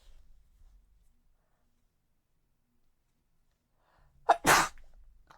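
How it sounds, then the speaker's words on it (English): A single sharp human sneeze bursts out loud and close near the end, following several seconds of near silence in a room during a building-game session. "the sneeze take might be happening"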